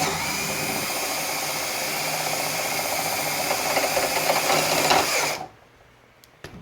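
A power driver sinks a self-tapping screw into a hard rack mount, a loud continuous buzzing whir with rattling that strains near the end, then cuts off abruptly into quiet.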